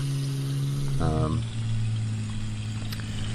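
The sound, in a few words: truck engine in a video game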